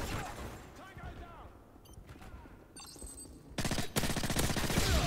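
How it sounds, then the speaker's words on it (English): Gunfire and a blast in Modern Warfare III, a rattle of shots and mechanical clicks building to a loud, sudden explosion near the end, with sustained noise after. "No way that grenade kills me!"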